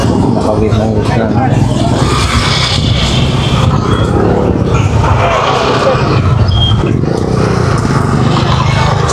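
Busy street traffic at Divisoria market, with car and motorcycle engines, horns and crowd babble forming a loud, dense wash, while someone talks nearby throughout.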